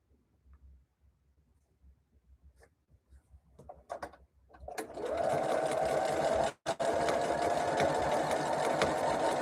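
Sewing machine chain piecing quilt patches, starting with a few quiet clicks and taps before settling into a loud, steady continuous stitching run with one brief pause.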